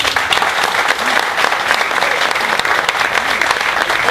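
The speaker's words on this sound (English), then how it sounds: "Folks, a round of applause for ChrisSununu." Audience at a New Hampshire political event applauds for a governor, a dense, loud, continuous clapping that fills the whole stretch without a break.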